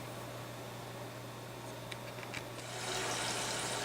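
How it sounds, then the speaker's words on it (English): Liquid rushes out of a purged brewing filter through a quick-disconnect line into a pail. It is a steady hiss that swells louder toward the end, with a few small clicks, and no one speaks. "Now we're going to go ahead and purge the filter."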